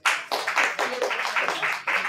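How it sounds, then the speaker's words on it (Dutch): Audience applause at a charity event, steady dense clapping from a crowd that swells in repeated waves over about two seconds, fairly close and loud, with no talking over it. "Applaus"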